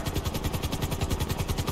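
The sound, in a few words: helicopter in GTA 5 video game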